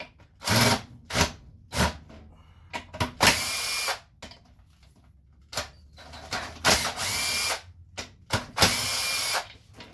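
A power tool taking bolts out of a 2002 Honda Accord transmission during teardown, in short bursts of whirring and ratcheting between clicks and clanks of handled parts, close by with quiet gaps.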